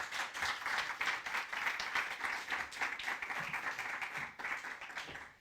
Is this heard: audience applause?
yes